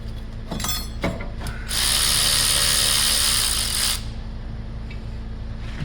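A hand ratchet loosening an 11 mm bolt on the brakes of a 2019 Cadillac Escalade: a few quick clicks, then a loud continuous ratcheting burr for about two seconds, then quieter.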